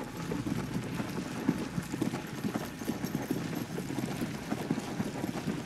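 Horse cantering in the video game Zelda: Tears of the Kingdom, a steady, rapid run of soft clip-clop hoofbeats that continues evenly throughout at moderate volume, with no talking.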